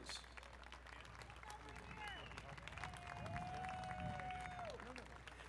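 Outdoor crowd applause at the Torrance Armed Forces Day Parade, a steady spread of clapping from a large audience, with faint voices and thin tonal sounds drifting over it.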